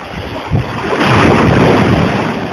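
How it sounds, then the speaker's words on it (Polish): A Baltic Sea wave at Władysławowo surges in and crashes nearby, a rising rush of surf and foam with heavy wind buffeting the microphone. "właśnie mnie zalała fala"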